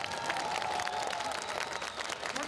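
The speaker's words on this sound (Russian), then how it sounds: "всему этому звездному составу от вас, дорогие гости и зрители, требуется определенная порция аплодисментов" An audience of guests and spectators claps together at a stage event honoring a film star, a fairly faint, continuous patter with a faint steady tone underneath.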